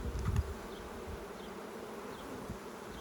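Worker honey bees drone on a hive frame at a pollination farm, a soft, continuous buzz with a brief louder bump near the start.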